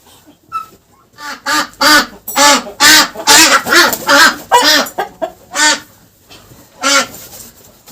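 Muscovy ducks call close by in a quick string of about a dozen loud, raspy bursts, bunched in the middle and thinning out toward the end.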